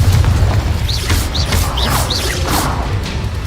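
Confringo explosive spell blasts from Hogwarts Legacy, a steady loud booming barrage with whooshing crackles and several short rising chirps layered over dense low rumble, continuous throughout.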